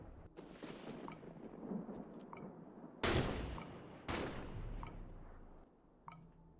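Loud, sharp gunshots ring out in a Halo 5: Guardians battle scene, two big cracks close together over low rumbling and distant pops, followed by a smaller shot near the end.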